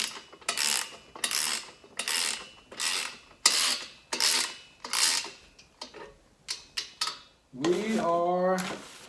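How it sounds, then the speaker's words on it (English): Metal ratcheting on a Fitness Gear Pro Olympic plate tree as a nut is tightened: repeated short bursts of ratchet clicks in a steady rhythm, close and fairly loud, with a brief scraping, ringing metal sound near the end. "So, I normally like to tighten it where the nut is."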